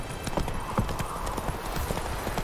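Horse hooves clip-clop steadily on a road in The Witcher 3 video game, a close, even trot of repeated knocks that carries through the whole stretch.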